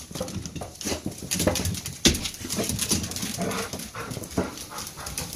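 Young puppies whimper and whine in a short, busy burst of high yelps and soft patter, close by and fairly loud, with no talking.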